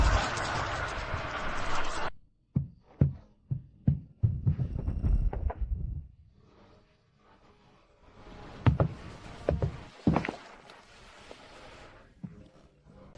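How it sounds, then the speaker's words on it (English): A heartbeat from an animated sci-fi ocean adventure thumps as a few deep, spaced pulses between bursts of louder rumbling and clattering, with quieter stretches in between. "heartbeat."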